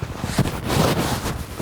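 Steady wind gusting and rumbling against the microphone, with no voices, on a 40-degree morning in Nevada.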